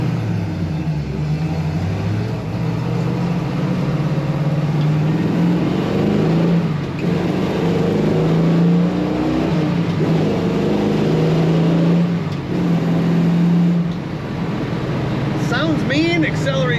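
A 1971 AMC Hornet SC/360 V8 pulls hard along a highway, its deep engine drone rising and steady under road and wind noise, with someone talking over it.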